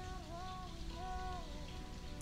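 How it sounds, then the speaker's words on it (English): Steady rain falls in an open-world delivery simulator game, a continuous hiss that runs for the whole stretch with faint sustained tones drifting above it. "It's been raining a lot lately."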